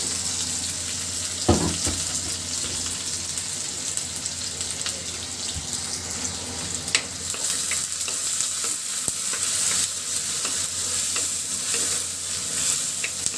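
Cooking oil hisses and sizzles in a pan over a gas flame, the start of a Bangladeshi beef curry with new potatoes, with a steady fry noise, a few close utensil clatters, and no talking.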